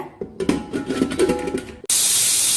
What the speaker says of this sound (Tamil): இப்போ குக்கர்ல இது ஒரு 4 விசில் 5 விசில் எடுத்துக்கோங்க.